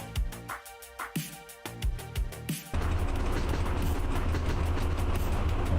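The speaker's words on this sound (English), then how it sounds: "But for now, I can't reach the top speed of this locomotive." A locomotive in the train simulator game Train Driver 2 runs with rhythmic clunks and mechanical tones, then shifts into a loud, steady rumbling roar that continues to the end.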